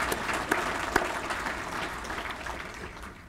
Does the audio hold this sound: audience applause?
yes